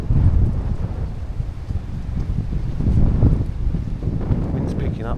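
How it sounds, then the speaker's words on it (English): Strong wind buffets the microphone on an open golf course in Chingford, a steady low roaring rumble that swells and eases throughout without a break. "Wind's picking up massively."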